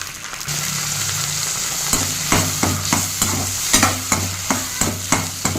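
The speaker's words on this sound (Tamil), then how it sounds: "இப்போ அந்த காயை அதில் போட்டு வதக்கி எடுத்துக்கலாம்" Manathakkali berries sautéing in a little sesame oil, a continuous bright sizzle with a low hum beneath and rhythmic scraping strokes of a ladle that speed up toward the end, close and alone.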